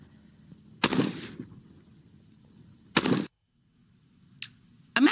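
AR-15 rifle firing: three sharp, loud single shots spaced a couple of seconds apart, each followed by a brief ringing echo, with a fourth shot starting at the very end.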